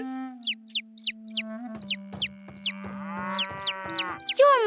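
A cartoon chick with a hurt foot cheeps in a rapid, evenly spaced series of high, bright peeps, close and clear over a soft sustained tone, with a voice rising at the very end.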